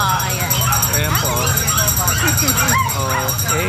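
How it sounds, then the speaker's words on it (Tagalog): Several dogs bark and yip close by in a busy outdoor setting, a quick ragged run of barks with some whimpering over steady background noise, while people talk. "O yan, yung mga aso ni Ate Rose"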